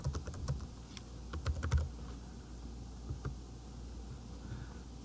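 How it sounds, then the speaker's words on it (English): Quick, uneven clicks of a computer keyboard as an email address and password are typed in, close and fairly quiet, with short bursts of keystrokes followed by pauses. "I'm going to type in my email address"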